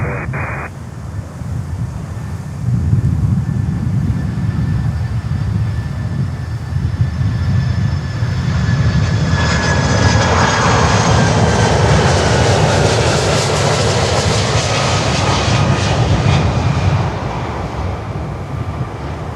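An airliner landing on runway 9 at Miami airport, a loud, steady jet engine roar that swells as it passes close, then eases off, with no talk.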